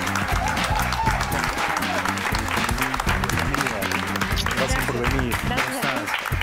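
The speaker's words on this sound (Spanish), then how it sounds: "un aplauso para ella." Studio audience applauding on a TV show as a guest is welcomed, dense continuous clapping throughout with music underneath and a brief spoken thanks.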